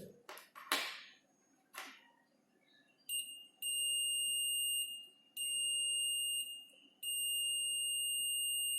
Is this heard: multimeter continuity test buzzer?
yes